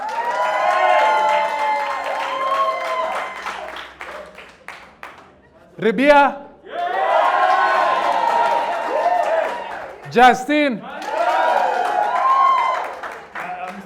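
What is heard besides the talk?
audience cheering and applause for debaters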